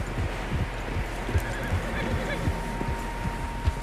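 Several horses in Red Dead Redemption 2, with neighs and soft hoof clops over a steady low outdoor rumble; the animals sound fairly close and mixed in with ambient game noise.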